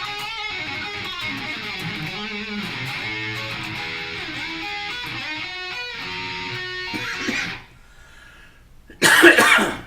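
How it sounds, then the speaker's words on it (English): A Harley Benton electric guitar plays sustained chords and notes, falls quiet, then one sharp, loud cough bursts out near the end. "I apologize for the cough."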